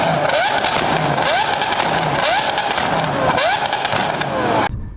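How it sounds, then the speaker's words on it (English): Exhaust of a high-performance car crackles with repeated bangs and pops, four rising revving bursts in a steady rhythm, loud and near, cutting off abruptly at the end. "pops and fires and everything coming out the exhaust."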